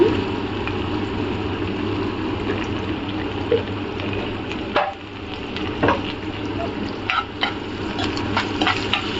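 Ginger garlic paste goes into a pan for an egg tomato curry, with steady frying and stirring noise throughout and a few scraping clicks around the middle. The sound is moderately loud and continuous, with no talking.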